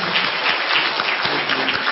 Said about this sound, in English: join me to give those presentation presenters a big applause